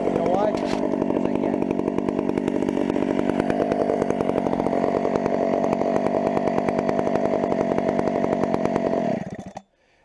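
Chainsaw idling loud and close with a rough, steady buzzing drone and rapid engine pulses for about nine seconds, then cut off abruptly into near silence.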